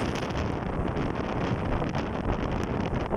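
Strong tramontana wind gusting on the Costa Brava coast at Palamós, Spain, a steady loud rushing roar buffeting the microphone without a break, with no talking.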